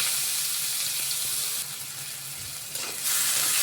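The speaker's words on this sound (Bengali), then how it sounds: "পেঁয়াজটা আমরা খুব হালকা লাল করে আমরা ভেজে নেব।" Chopped onion frying in oil with panch phoron: a dense, continuous hiss of sizzling that dips slightly midway and swells again near the end, close and steady with no voices.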